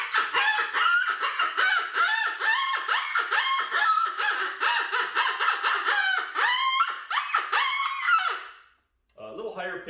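LXP Fire electronic predator call playing shrill animal distress cries, loud, close and repeated in a steady stream, ending with a short silence and a brief final burst.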